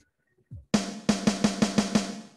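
Six sharp snare drum hits in a steady beat, each with a crisp rattling crack, preceded by a single low kick drum thump.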